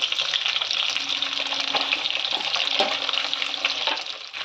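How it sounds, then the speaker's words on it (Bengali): Chicken pieces fried a second time in a pan for chili chicken, a steady, close hiss and sizzle of hot oil with soft stirring scrapes throughout, with no talking. "চিকেনগুলোকে আরেকবার ভালো করে ভেজে নিচ্ছি"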